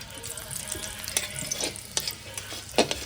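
Two dried red chillies go into hot oil in a new wok, producing a faint, close sizzle broken by a few sharp clicks and scrapes of a spatula against the metal.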